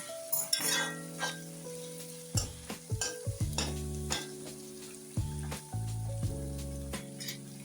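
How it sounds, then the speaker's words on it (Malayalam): Chicken fries in mustard oil and is stirred now and then, a soft sizzle broken by clinks and scrapes of a utensil against the pan, quiet and close, with steady musical tones running underneath. "നമ്മുടെ ചിക്കൻ വറക്കാൻ ഇട്ടിരിക്കുന്നത് ഇടയ്ക്കിടയ്ക്ക് ഇളക്കി കൊടുക്കുന്നുണ്ട്"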